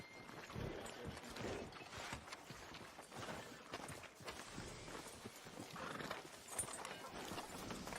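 Horse hooves clip-clop steadily along a town street in Red Dead Redemption 2, mixed with occasional whinnies and a busy background ambience, with no talking.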